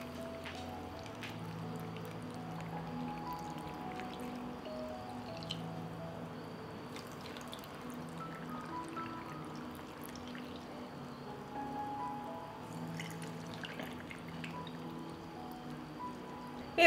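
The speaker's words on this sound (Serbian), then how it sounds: "I na kraju ću napuniti tegle sa vodom." Water poured into glass jars, a faint, steady trickling stream that runs for a long stretch with slight changes in pitch, quiet and close, no talking.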